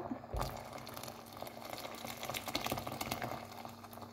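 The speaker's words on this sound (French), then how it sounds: "On va pouvoir ajouter maintenant l'eau chaude." Hot water pours into a pot of Moroccan harira soup, a continuous close splashing and gurgling stream that runs steadily for a few seconds with no talking.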